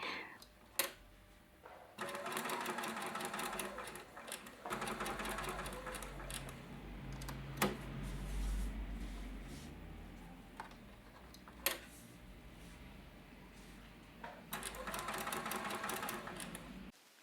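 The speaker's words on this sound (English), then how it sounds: "Stay stitch the 2 back lining pieces in the same way." A sewing machine stay-stitches back lining pieces in several short bursts of rapid mechanical whirring and ticking, separated by quieter pauses with faint handling noise.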